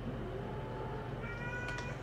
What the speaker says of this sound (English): Cat wants to play.